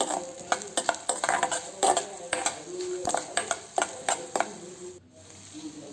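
Urad dal and coriander seeds roast in a pan, with a steady run of loud spoon scrapes and clinks against the metal over a soft dry crackle, pausing briefly near the end.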